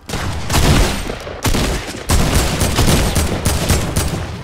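Dense bursts of automatic gunfire in the Fortnite video game, loud and close, with rapid repeated shots in three long volleys separated by brief pauses.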